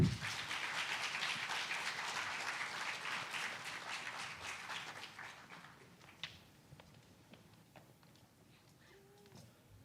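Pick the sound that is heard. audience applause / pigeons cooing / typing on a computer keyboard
audience applause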